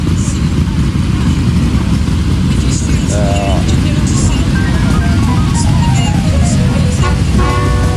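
Constant loud traffic noise with motorbikes droning past, people talking over it and occasional horn-like toots.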